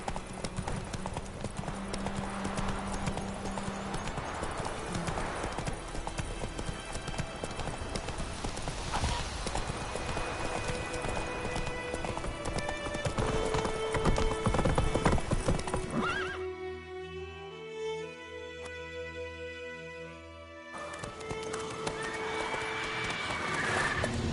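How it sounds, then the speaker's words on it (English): Roach, the horse in the video game The Witcher 3: Wild Hunt, gallops with steady rhythmic hoofbeats and whinnies over a busy game soundtrack, the galloping briefly dropping out before resuming. "Run, Roach."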